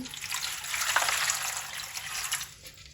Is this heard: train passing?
no